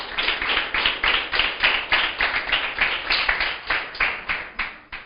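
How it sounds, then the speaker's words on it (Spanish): A church congregation claps in quick rhythmic bursts, a dense, close patter of hands pulsing steadily for several seconds. "¡Aplauda al Señor!"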